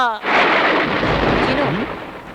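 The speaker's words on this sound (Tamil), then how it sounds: "வெளியில நல்லா மழை பெய்யுது" Heavy rain pours outside in a comedy film scene: a loud, steady broadband roar of downpour with a thunder-like rumble, close and continuous, with faint voices.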